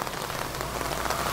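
Steady rain falls in Surat under a dark, heavily clouded sky, a dense continuous hiss of drops striking surfaces, close and fairly loud, with no voices.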